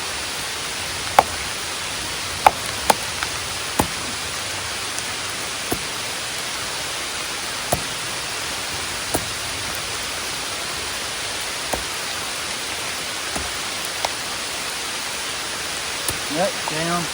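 Heavy rain pours outdoors in the wilderness, a dense, even hiss lasting throughout, with occasional louder drips and taps standing out and a voice faintly in the background.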